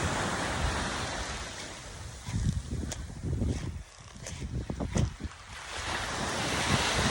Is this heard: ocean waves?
yes